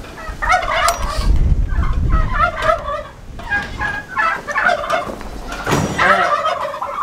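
Several turkeys gobble in repeated bursts around a livestock farmyard, the calls overlapping and fairly close, with low rumbling background noise between them.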